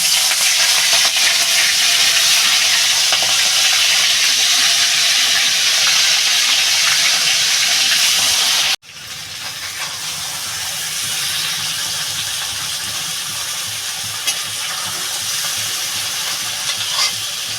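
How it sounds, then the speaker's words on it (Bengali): Prawn heads fry in a pan, loud dense hissing sizzle that cuts off abruptly midway, then returns as a quieter, steady sizzle. "মাথাগুলো বন্ধুরা আমি লাল লাল করে ভেজে নেব"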